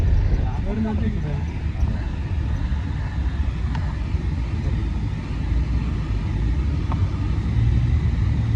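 A desert safari vehicle on the dunes near Dubai runs with a steady low engine rumble, while people chatter over it almost the whole time.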